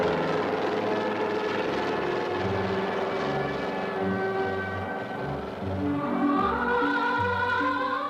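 A medical helicopter's steady rotor thrum fills the whole stretch, loud and continuous with a rhythmic low pulsing and a rising whine near the end, North Korea, 1992.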